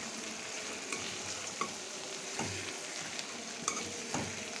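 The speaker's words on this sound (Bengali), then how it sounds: "আমের আচারটা আমি নেড়ে দিচ্ছি।" Mango pickle with onion and garlic frying in a pan over medium heat, a steady soft sizzle with occasional spoon scrapes and knocks as it is stirred, close up and with no talk.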